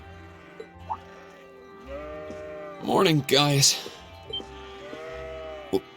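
Sheep bleat in a video game, with several drawn-out wavering calls, one loud pair standing out in the middle, heard near and mixed with brief character dialogue.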